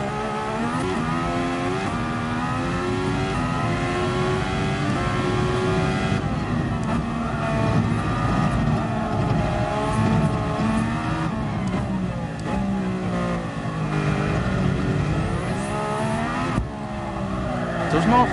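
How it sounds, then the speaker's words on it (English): A car engine in the GT Sport racing game drones steadily and loudly throughout, rising and falling in pitch as it revs up and shifts, with a voice talking over it. "Does not make some weird noises, this car."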